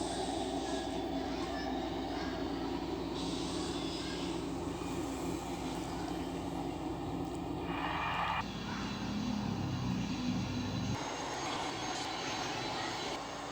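A Continental Airlines DC-10 airliner roars through its takeoff roll, a sustained engine drone with shifting tones and abrupt changes, heard at moderate distance with no talking.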